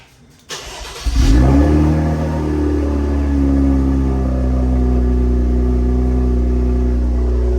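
A Cadillac CT5-V engine starts with its exhaust valves closed, catching with a rising rev, then settling into a loud, steady, deep idle rumble that holds close to the microphone.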